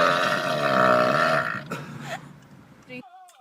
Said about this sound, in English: It's the drive-by burp